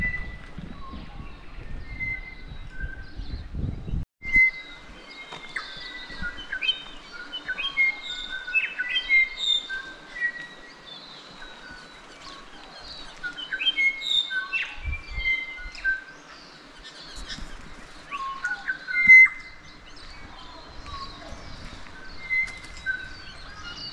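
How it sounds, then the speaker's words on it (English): Tui and bellbirds sing from a flowering kowhai tree, with a dense, varied stream of chirps, whistles and warbles going on for about twenty seconds, a few low thumps and rustles underneath and no one speaking. "With all that bird song with the tuis and the bellbirds"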